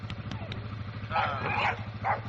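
A dog barking in a breeding yard: a few short barks and yips over a steady low hum, moderately close, with the last bark standing out briefly near the end.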